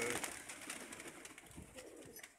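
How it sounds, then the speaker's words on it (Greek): Domestic pigeons cooing softly in a loft, a steady low murmur of coos from several birds, faint and close, with no talking. "Εδώ είναι τα περιστέρια μας."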